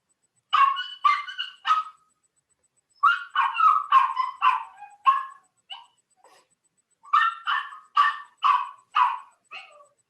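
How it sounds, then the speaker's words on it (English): A young puppy left alone while its owner is in the bathroom barks and yips in three rapid bursts of high, sharp barks, separated by short silences, close and clear with no talking. "I just went into the bathroom, and like most puppies, she is throwing a little bit of a fit."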